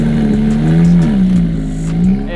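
A twin-turbo SRT 392 engine revs up close and loud, a deep steady throaty drone that dips and rises in pitch through a couple of short throttle blips, with no talking.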